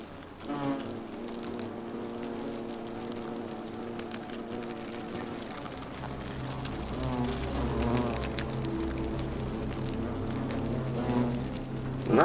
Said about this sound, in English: I'm not a fan of the bees.